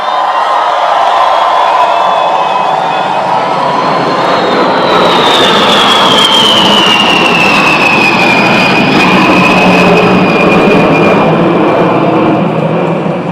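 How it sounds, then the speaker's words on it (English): A B-52 bomber jet flies over Mount Rushmore in South Dakota during an America250 address, a loud roaring engine rumble with a descending whine as it passes, sustained throughout. "Yeah, baby, that's a B-52."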